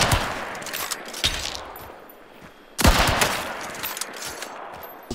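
Gunfire in the game Hunt: Showdown: a few sharp, loud shots with trailing echo, a burst near the start, another around one second, and a heavier volley later, with no talk over them.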